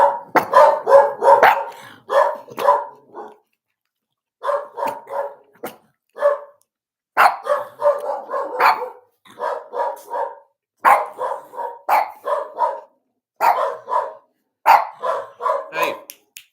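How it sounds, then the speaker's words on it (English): A dog barks repeatedly in quick bursts of two to four, loud and close, with short pauses between volleys. "Stop barking so."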